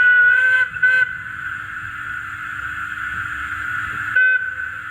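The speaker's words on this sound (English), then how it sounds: "Yeah, that's a very accurate whistle." Steam whistle from a Rapido DCC sound-fitted OO gauge Metropolitan Railway E class model locomotive, a steady shrill tone held for about four seconds with two brief breaks near the start, over a low mechanical hum.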